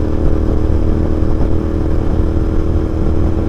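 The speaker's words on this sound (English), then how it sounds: "I'm riding at 120 kilometers per hour" A Royal Enfield GT 650 motorcycle cruises at about 120 km/h, its engine a loud, steady drone blended with heavy wind rush, constant and unbroken throughout.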